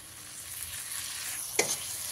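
Small chopped tomatoes fry in a cooked-down spice masala for soybean dopiaza, a close, steady sizzle with a sharp burst of spatter near the end, no voices.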